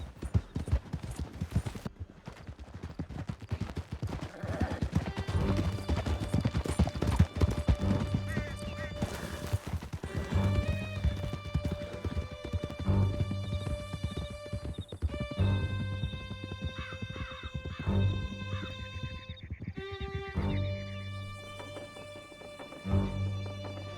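Horses gallop hard through a canyon in Red Dead Redemption 2, with fast continuous clip-clop hoofbeats, a whinny, and a musical score over the top. Voices speak now and then.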